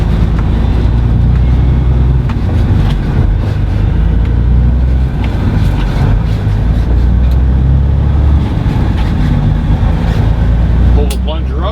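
Truck with an 18-speed transmission driving, its engine and road drone steady and loud while someone talks over it continuously.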